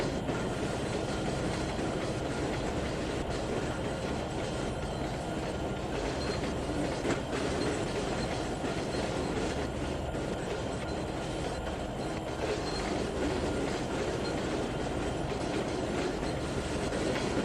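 A train of nine diesel locomotives pulling log cars and a corn car in the Trainz 2019 train simulator, a steady rumbling roll with clickety-clack wheel noise running continuously and fairly loud throughout.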